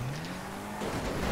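A car driving on three tyres with one missing in GTA V: a low, steady engine drone with a rising pitch, a few faint scrapes, and a louder rumble toward the end, with no talking.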